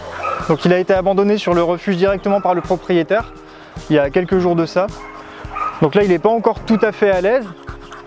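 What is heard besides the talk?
dog whimpering, yipping and panting at a shelter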